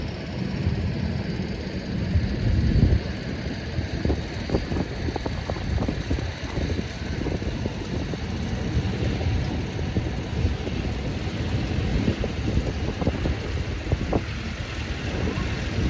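A 1952 Farmall M tractor rolls past in a steam and gas engine society tractor parade, its steady engine rumble continuous and fairly loud throughout, with no talk over it.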